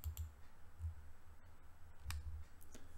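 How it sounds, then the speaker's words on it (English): Mouse clicks during a JetBrains IntelliJ software installation: a few sharp, isolated clicks spaced irregularly over a faint low hum, close to the microphone and with no talking. "And so then you can just click that and then click continue."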